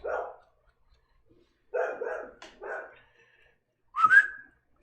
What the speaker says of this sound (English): Yes, it's my killer dog.